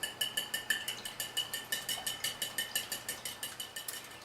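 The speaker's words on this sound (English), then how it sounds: "And then I'm going to whisk this up." Batter for dandelion scone cookies being whisked in a bowl, a steady fast rhythm of light metallic clinks and scrapes repeating about five times a second, close and clear with no voices.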